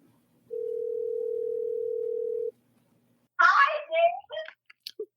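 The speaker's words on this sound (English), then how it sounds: "okay, calling Rebecca" A phone call's single steady ringback tone sounds for about two seconds, clean and loud, then stops, followed by a brief pause before a voice begins speaking.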